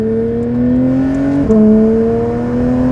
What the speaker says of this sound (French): c'est incroyable cet échappement